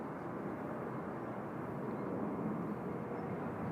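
Airliner on approach at Seoul Incheon Airport, heard as a steady, distant broadband rumble and roar without a break.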